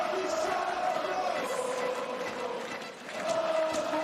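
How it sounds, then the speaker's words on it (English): A crowd at the 2019 FISE Montpellier BMX freestyle spine ramp pro final cheers and chants continuously at moderate distance, a dense roar with rising shouts and no clear single voices. "getting the cheers and chants from the crowd"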